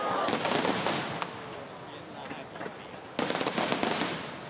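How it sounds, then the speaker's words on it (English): Rapid crackling bursts of fireworks in two dense volleys with a quieter stretch between, loud and close, with faint voices in the background, at a fireworks show rehearsal in Taichung, Taiwan. "the city is holding a 5-minute rehearsal of the fireworks"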